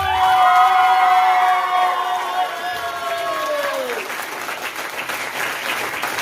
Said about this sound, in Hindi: जबरदस्त और एक जोरदार ताली।